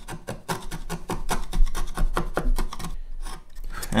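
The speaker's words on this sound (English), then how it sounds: "So using a chisel, we're going to come in here and remove that little section of your lining." A chisel pares away a section of the wooden lining inside an acoustic guitar body, giving close, rhythmic rasping scrapes in quick strokes that pause briefly near the end.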